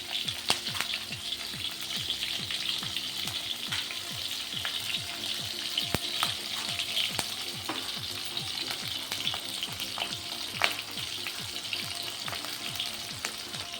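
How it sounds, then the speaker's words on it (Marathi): Green chilies fry in hot oil with cumin and mustard seeds, a bright continuous sizzle dotted with rapid crackles and pops from the seeds, close and steady with no voices. "आता आपण त्याच्यात हिरवी मिरची टाकूया ही हिरवी मिरची थोडी आपल्याला त्याला भाजून घ्यायची आहे"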